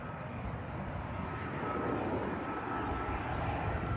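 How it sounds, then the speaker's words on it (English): An airplane comes in to land over a fishing spot by the water on an early fall weekend, a steady, distant engine roar that holds evenly throughout. "Let's look at the airplane coming in"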